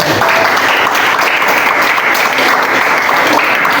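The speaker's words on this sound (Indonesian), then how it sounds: "Berikan aplaus." An audience at an Indonesian school coaching and academic supervision session claps loudly in steady, dense applause that fills the room and then cuts off abruptly.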